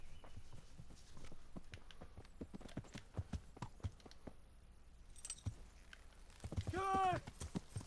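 Horse hooves clip-clopping in the medieval game Kingdom Come: Deliverance, a run of sharp irregular hoof knocks at moderate distance with a voice talking over them briefly.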